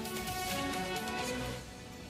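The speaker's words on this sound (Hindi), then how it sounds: "बरसात जारी रही।" Heavy monsoon rain pours down in Mumbai, a steady broadband hiss that stays dense and even throughout before easing slightly toward the end, with no voices.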